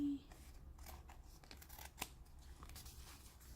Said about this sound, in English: And trim the sides off my little card.